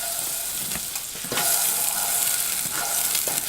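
Butter melting in a pan over medium heat sizzles and crackles steadily, close and fairly quiet, with small bursts of spattering.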